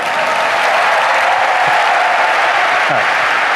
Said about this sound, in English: If you like any of those things, please applaud it.